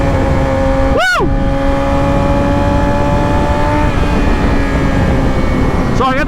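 Liter-class sport motorcycle ridden on fun twisty roads, a steady close engine drone with wind rush throughout and two brief passing sweeps from other vehicles, one near the start and one at the end.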